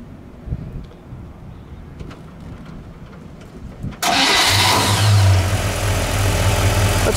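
A 1956 Chevrolet Bel Air two-door post with an engine that cranks to life abruptly after several quiet seconds of background noise, then settles into a loud, steady, smooth idle close by.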